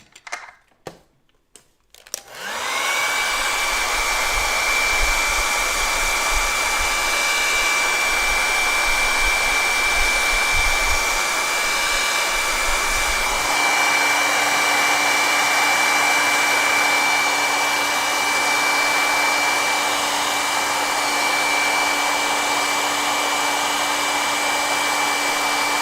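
A hair dryer drying an ink painting made with Derwent Inktense starts after a couple of seconds of handling noise, then runs as a loud, steady close whir with a constant whine, shifting slightly partway through.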